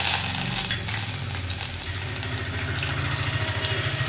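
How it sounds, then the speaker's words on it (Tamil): Mustard seeds, urad dal and curry leaves spluttering in hot oil for a carrot poriyal, a steady dense crackle with rapid popping that carries on close and loud throughout, with no talking. "பாருங்கள், இது வந்து நல்லா பொரிய ஆரம்பிச்சுட்டு"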